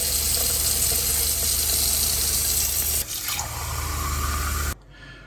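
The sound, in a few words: kitchen sink cold water tap running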